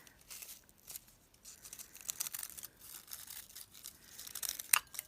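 Scissors, not meant for paper, snip and trim both sides of a paper piece for a junk journal: quiet, scattered crisp cuts and rustling paper, close by, ending in one sharper snip.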